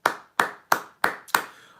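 Hand clapping from one person, five distinct, sharp, close claps in a fairly even rhythm about a third of a second apart, each ringing briefly before the next.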